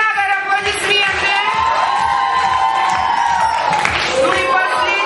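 Audience at a children's camp quiz game cheering, whooping and clapping for a named winner, a loud excited crowd burst with shouting voices throughout.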